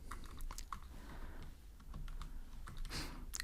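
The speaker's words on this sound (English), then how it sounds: "So I'm gonna type here cursor" Rapid keystrokes clatter on a computer keyboard while code is entered, a close, continuous run of light clicks with brief pauses and no talking.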